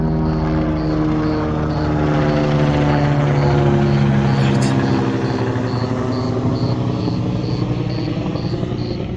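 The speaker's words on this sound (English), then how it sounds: "Let me just wait for this helicopter to pass by." A loud, steady helicopter rotor thrums overhead throughout, a constant chopping drone with no talking.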